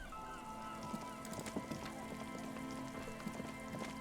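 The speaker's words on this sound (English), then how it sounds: "And it's raining" Steady rain patters across the whole stretch in the video game Disco Elysium, a soft continuous wash with scattered louder drops and faint ambient tones beneath, no talking.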